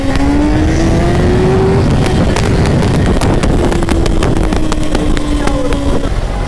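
A Kawasaki ZX6R engine revs on a ride, a loud continuous drone that slowly climbs and dips in pitch, heavily buffeted by wind noise, with no voices.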